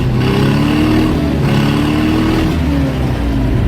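An old Ford F-600 truck engine revving hard after a cold start in -22°F weather, a loud, close, rough mid-pitched roar that rises and falls through a few throttle pulls without letting up.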